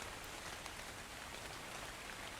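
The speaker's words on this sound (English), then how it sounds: "Oh, it's raining." Rain falls in the video game ARK: Crystal Isle as a constant, even hiss of rainfall, soft and unbroken throughout.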